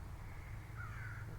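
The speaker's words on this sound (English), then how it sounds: "My crow is sitting up in the tree asking me if I have any scraps for him today." A crow perched up in a tree gives a single drawn-out caw, fairly faint and distant over a low steady background hum.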